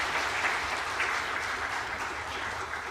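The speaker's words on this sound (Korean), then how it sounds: "다시 한번 여러분 뜨겁게 박수해 주시고" A church congregation at a Sunday service applauds warmly, a steady, even roar of many hands clapping throughout.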